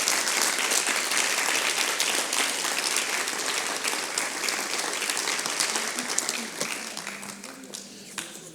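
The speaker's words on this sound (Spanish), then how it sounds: "Vamos a darle un aplauso a Jesucristo" A church congregation applauds steadily and loudly for several seconds, a dense wash of many hands clapping that thins and fades toward the end, with faint voices mixed in.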